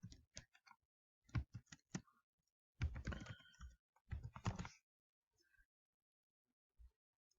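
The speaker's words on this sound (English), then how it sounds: "from the search bar, all I'm going to do is type in real estate" Someone types on a computer keyboard in short, quiet bursts of close clicking keystrokes, with pauses between the groups.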